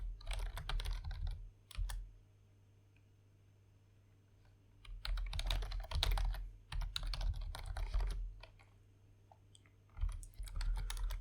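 Bursts of typing as Python code for a Discord meme-generator bot is entered on a computer keyboard: rapid close-up key clicks in several clusters separated by quiet pauses, with no talk.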